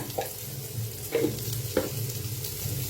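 Sautéed onions with turmeric stirred in a pan while making Mysore dosa, the spatula scraping in a few distinct strokes over a steady background sizzle, close and moderately loud.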